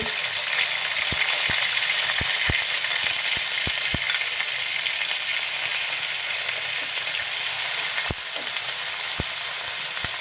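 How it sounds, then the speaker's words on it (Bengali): Cumin paste and onion paste fry in a pan with a loud, steady close sizzle throughout, punctuated by sharp ticks and pops, with a cluster of them early on and a few more scattered later. "জিরা দিচ্ছি, জিরা বাটা জিরে দিচ্ছি, বাটা পেঁয়াজ দিচ্ছি"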